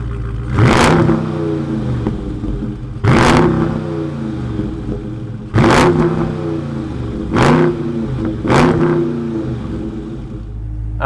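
A 2020 Dodge Charger Scat Pack engine idles with a deep rumble, broken by five sharp, loud revs at uneven intervals, each one climbing and falling back.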